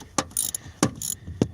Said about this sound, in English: I've just got a ratchet on here, getting it loose,